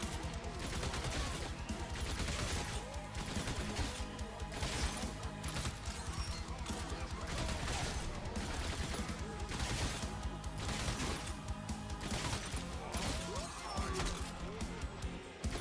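Gunfire in the video game Orcs Must Die! Deathtrap, a steady clatter of repeated shots and crashing impacts that runs dense and unbroken throughout, with game music and effects layered beneath.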